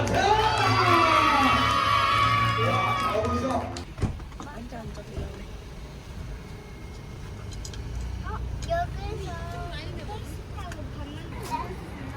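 Children cheering and shouting together at a magic show, a loud burst of young voices that drops off abruptly, followed by quieter chatter and scattered calls with talking.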